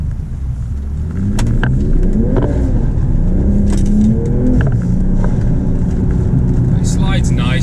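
BMW G42 M240i with an MST intake revving hard with traction control off, engine note rising and holding loud and close as the rear wheels spin, a voice briefly heard under it.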